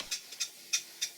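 A rebuilt Stuart Major model beam engine runs after parallel motion adjustment, producing faint, evenly spaced light ticks in a smooth regular rhythm with no other sounds.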